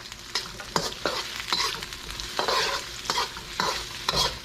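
Onion stir-fried in a hot pan, with steady sizzling and rhythmic scraping strokes of a utensil against the pan, close and moderately loud with no talking.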